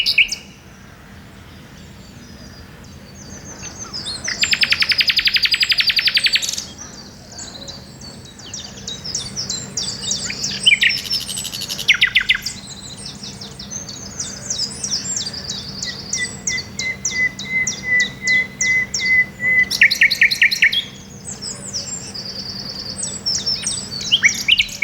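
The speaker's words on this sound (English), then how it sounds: "Springtime in coppiced or overgrown woodland in southeast England is the best time to experience nature's finest concert as the male nightingales proclaim their territory." Male nightingales sing in spring coppiced or overgrown woodland in southeast England, with loud varied phrases, rapid trills and pure whistles, while a steady hum of insects or crickets runs underneath.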